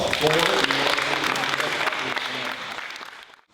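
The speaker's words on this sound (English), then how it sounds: "A round of applause." Audience applause at a fifth-grade school recognition day: a dense burst of clapping from a crowd, fairly close, tapering off and fading to quiet after about three seconds.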